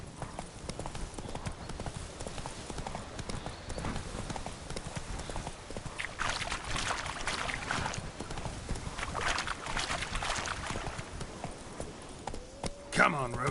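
The horse Roach trots in a video game, with rhythmic hoof clip-clops running steadily through the whole stretch and growing louder in the middle, amid outdoor ambience and a brief whinny-like sound near the end.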